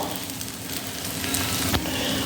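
Ragi flour and sago batter sizzling steadily in a spoonful of oil in a pan over medium heat, a close, continuous crackling hiss with no voices.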